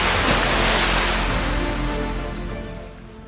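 Water splashing in a swimming pool: a loud, broad rushing wash that starts strong and gradually fades over a few seconds, with no voices.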